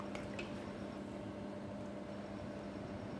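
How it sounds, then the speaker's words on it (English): Thick Nigerian okro soup being stirred in a pot after meat stock is poured in, giving soft, steady wet squelching and liquid movement over a constant low kitchen hum, with no talking. "I'm going to add my meat stock to loosen it up a bit, and I'm going to stir once again."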